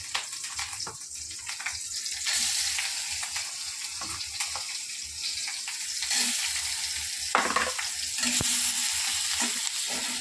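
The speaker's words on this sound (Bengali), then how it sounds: "আর এই যে কলমি শাক ভাজবো এখন আমি।" Water spinach (kolmi shak) fries in a pan with garlic paste and chillies, a steady bright sizzle with soft stirring scrapes and occasional crackles, close and moderately loud.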